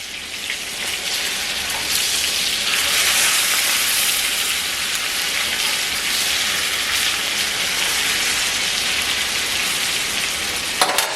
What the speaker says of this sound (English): So I'm just going to turn it over. And I'm going to let it cook on this side